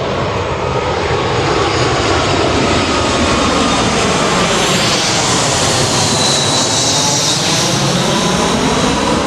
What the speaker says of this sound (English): I think that was the closest I've ever seen a plane in front above me.